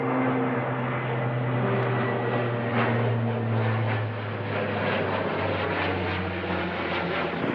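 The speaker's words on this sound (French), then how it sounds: "c'est en fait l'avion anti-incendie ici à La Réunion" A firefighting propeller airplane drones loudly overhead on Réunion, a steady engine hum with a throbbing pulse that persists throughout.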